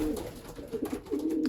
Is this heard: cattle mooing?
no